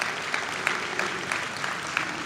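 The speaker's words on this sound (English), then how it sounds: "Please give them a round of applause." Steady applause from an audience at a 2018 Hall of Fame ceremony, a continuous moderate patter of clapping throughout.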